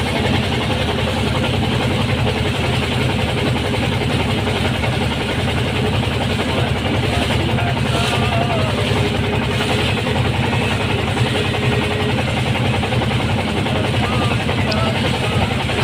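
The engine of a passenger launch on a river trip toward the white-stone area in Sylhet drones steadily and loudly throughout, a constant rumbling throb with vibration and no pauses.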